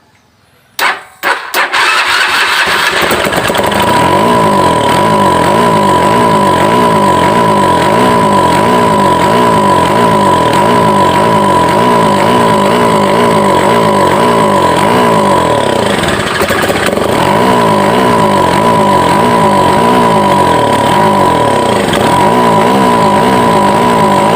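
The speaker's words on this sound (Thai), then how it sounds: "เปิดกุญแจแล้วก็กดได้สตาร์ทเลยนะครับ" A Ryuka Fly 150 motorcycle fired up on its electric starter: a brief cranking burst, then the engine catches and settles into a loud, steady idle with a faint whine, holding close and constant throughout.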